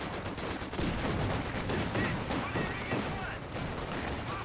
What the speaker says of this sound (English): Machine gun in the building, stopping that push.